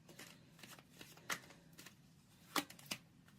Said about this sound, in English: Okay, so I need 2 cards for that.